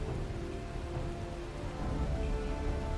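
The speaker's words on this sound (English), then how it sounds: "I should make the rain sound effects louder." Game rain ambience from Final Fantasy XIV: Dawntrail, a constant hiss of falling rain with a faint low rumble underneath, even and moderately quiet throughout, no talking.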